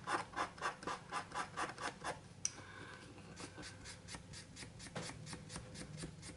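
Sandpaper of 220 grit rubs back and forth over a Dunhill 305 briar pipe under repair, giving a steady rhythmic rasp of short strokes, close and fairly quiet, with no talking.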